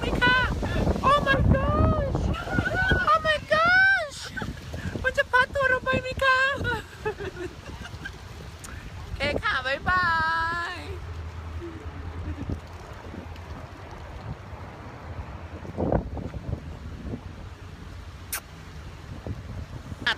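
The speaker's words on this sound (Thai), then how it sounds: "ลมแรงมาก" Strong wind buffets a microphone outdoors near a resort, producing continuous low rumbling gusts through most of the stretch, loud and close, with someone talking over the early part.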